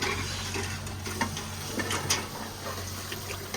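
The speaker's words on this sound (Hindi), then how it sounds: "आप भिंडी को जल्दी जल्दी अच्छी तरीके से भूनना है" Okra stir-fried in a pan in a village kitchen, with steady sizzling and frying under occasional scraping and stirring clinks, close and continuous throughout.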